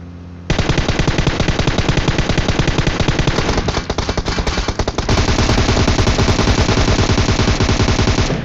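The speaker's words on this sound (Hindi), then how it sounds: "अब देखो मैंने यहाँ पे रैंडम फायर कर दिया और दोनों में से एक बंदा मारा गया।" Sustained automatic gunfire in the video game PUBG, rapid, loud and close, with bursts running almost continuously and a short uneven stretch in the middle, without speech.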